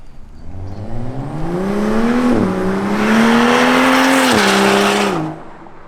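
A BMW with an N55 engine and a stage 2+ tune pulls hard with its exhaust roaring, the pitch climbing steadily through two gear shifts and then cutting off sharply, loud and close.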